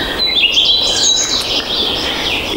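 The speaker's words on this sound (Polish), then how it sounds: "ptaki są" Wild birds sing by a stream at dawn: several bright chirps and warbled calls come close together over a steady rushing wash, fairly loud, with no voices.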